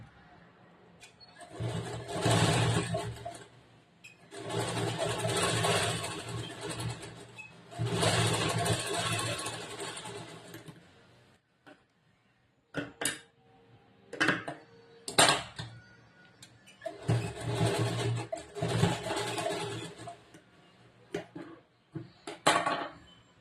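Sewing machine stitching a blouse runs in several bursts of a few seconds each, a rapid whirring buzz that stops and restarts, with short clicks and handling knocks between runs and no talk.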